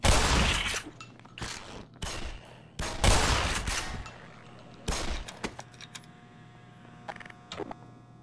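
Shotgun blasts in the Black Mesa video game, a handful of loud, separate booms spaced a second or so apart over a low background hum.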